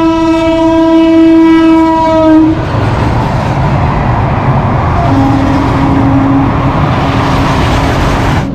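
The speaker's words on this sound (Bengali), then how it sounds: "তো আমাদের ট্রেন এসে এখন পৌঁছালো দাঁতনে।" The Howrah Puri Dhauli Express arriving at a station sounds a long, loud horn blast, followed by a rumble and rattle of rolling wagons that continues close by.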